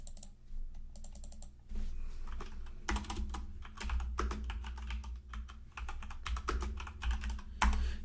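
Computer keyboard typing, quiet clusters of quick keystrokes in irregular bursts with short pauses between, close and soft over low background hum.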